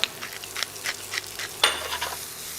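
Mushrooms with thyme, salt and black pepper frying in a pan, a steady soft sizzle broken by repeated stirring scrapes and a sharper clatter partway through, close up, no talking.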